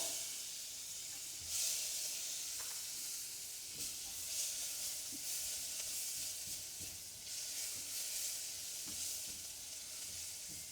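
A shallot sizzles in butter in a pan, a steady close frying hiss with occasional louder bursts and light stirring scrapes, no voices.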